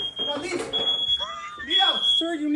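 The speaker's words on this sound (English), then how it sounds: "Is the fire alarm going off?" A smoke or fire alarm sounds as a sustained high electronic tone running through the clip, beneath frantic shouting voices.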